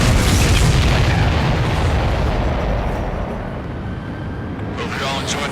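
Explosions in Ace Combat 7, a video game: loud, dense booming blasts rumble continuously and fade slightly, with a fresh burst near the end.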